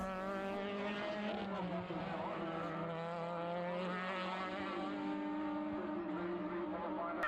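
Formula BOSS single-seater race cars screaming past during a Leinster Trophy race in Ireland, sustained high engine whine with shifting pitch, while a commentator's voice runs underneath.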